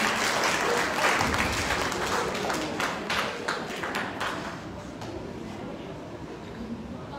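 Applause from the audience at a college poetry gathering (mehfil-e-adab), a full burst of many hands clapping that starts strong and slowly thins and softens over several seconds.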